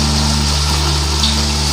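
Water, about half a cup, poured into a hot pan of fried peas, a steady close gushing hiss over a constant low hum, unbroken through the short moment.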